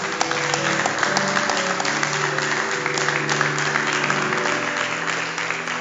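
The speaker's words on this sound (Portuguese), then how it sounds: "Aplauda o Senhor nessa noite." Church congregation applauding during an evening worship service, loud sustained clapping over a held organ or keyboard chord that carries on underneath.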